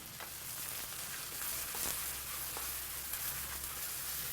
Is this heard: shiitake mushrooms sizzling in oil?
yes